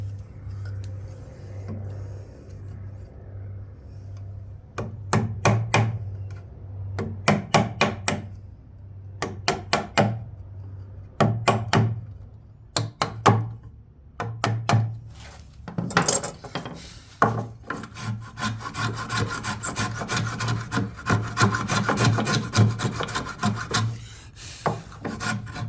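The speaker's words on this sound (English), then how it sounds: "I can get my chisel in there." A chisel scraping and tapping at old wood on an early-1800s loom being refurbished, close rasping strokes in irregular bursts that turn into longer continuous scraping, over a steady low hum.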